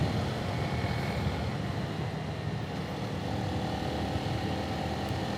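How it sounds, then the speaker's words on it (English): Honda CRF300L dual sport motorcycle riding along Mulberry Creek Road in North Carolina, giving a steady, fairly quiet engine drone mixed with wind rumble throughout, with no talking. "You have to make your own noises when your bike is this quiet."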